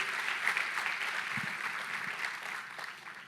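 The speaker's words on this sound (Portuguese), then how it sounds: "Você pode aplaudir, honrar e celebrar a palavra de Deus." A church congregation applauds during a revival service. The clapping is warm and continuous, filling the room at moderate volume with no speech over it.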